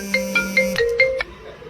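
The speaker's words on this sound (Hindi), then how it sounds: "फोन आ रहा है।" A phone ringtone sounds for an incoming call, a short bright melodic pattern of repeated tones over about a second, loud and close, ending abruptly with faint background after.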